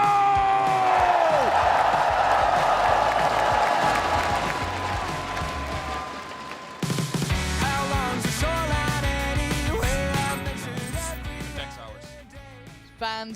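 A large esports arena crowd at Valorant Masters Toronto cheers and applauds loudly, a dense roar that fades as music with tonal swells takes over partway through.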